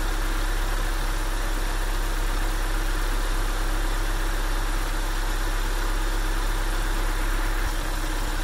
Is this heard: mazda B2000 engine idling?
yes